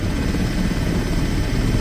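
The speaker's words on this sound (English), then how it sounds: "Helicopter." An EMS rescue helicopter attending an airplane crash and construction site injury, its rotor and engine making a loud, steady, close roar with dense low-end chopping throughout.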